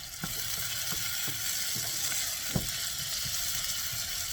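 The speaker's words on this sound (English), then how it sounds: "you want to add that to your sauteing onion, because you will be now sauteing the peppers a tiny bit" Onions and sweet peppers sauté in a pan for chicken paprikash, giving a dense, continuous sizzle with regular soft scrapes and taps of a stirring utensil every half second or so, close and steady.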